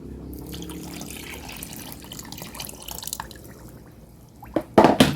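Water trickles and drips quietly into a cooking pot, then a brief louder splash of pouring near the end.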